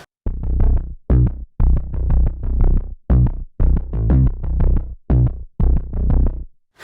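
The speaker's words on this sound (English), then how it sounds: "So this is what the bass sounds like." Dark electronic synth bass preset for a pop metal track playing a choppy rhythmic pattern of loud distorted bursts with brief gaps between phrases, up front and without talk.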